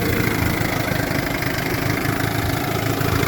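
A 1976 Johnson 6.4 hp short-shaft two-stroke outboard idles steadily close by, a continuous loud buzzing drone with no breaks and no voices.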